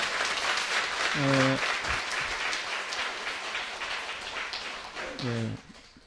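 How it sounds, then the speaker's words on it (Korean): Congregation clapping in welcome for a guest at a Korean church founding service, a moderate sustained patter of hands with brief organ-like tones sounding twice over it. "저 뒤에 계시는데 우리 환영의 박수 하겠습니다."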